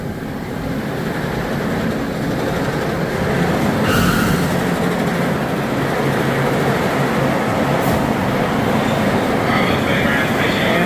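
A roller coaster train on the Texas Titan rumbles past at night at steady volume with a constant roar and clatter of wheels on track, with a few faint metallic clicks.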